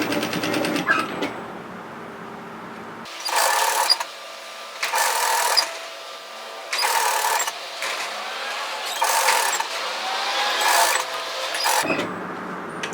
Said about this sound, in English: stitch directly through that previous line of gathering stitches